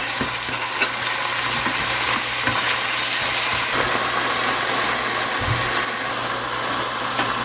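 Tomatoes sizzle and fry in a pan with quinoa and lentils, a loud, continuous crackling hiss with faint scraping stirs running underneath.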